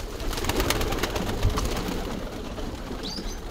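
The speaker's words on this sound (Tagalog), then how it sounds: "Yan yung mga kalapati." Pigeons coo softly amid a noisy, rustling background, with low murmuring calls close by.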